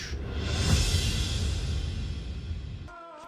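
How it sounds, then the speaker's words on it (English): A whoosh effect in an EDM future bass track: a loud broadband noise sweep that swells early and slowly fades over about three seconds, ending as a tonal synth enters. "Whoosh."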